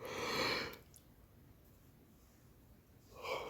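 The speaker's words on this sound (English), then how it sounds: "Excuse my yawn, I do apologise" A long, breathy yawn close to the mic, followed by a quiet pause and the start of another breathy exhale at the end.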